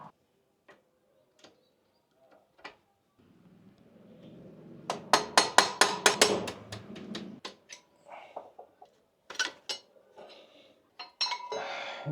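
Worn rear brake pads, their friction material almost gone, are pulled from a Himalayan 450 motorcycle: sparse metallic clicks and clinks, then a louder burst of rattling scrapes midway, followed by more scattered taps and clinks close by.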